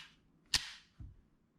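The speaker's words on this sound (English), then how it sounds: "So now you're gonna put the magazine on" A magazine is inserted into a Smith & Wesson M&P 9mm Shield 2.0 pistol, making one sharp, close metallic click followed by a softer thud, otherwise quiet.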